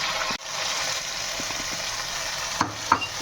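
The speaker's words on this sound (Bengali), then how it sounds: "টমেটোটা ভালো করে কষে নেব।" A tomato and spice masala fries and sizzles steadily in a pan as it is sautéed, with a brief break in the hiss and a couple of light clinks from a stirring spoon near the end.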